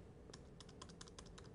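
The Tab key is tapped over and over on a computer keyboard, quick, crisp clicks in an irregular rhythm, close and fairly quiet.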